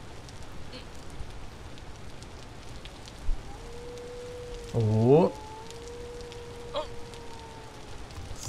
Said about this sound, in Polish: To po prostu jedna wielka chmura deszczowa.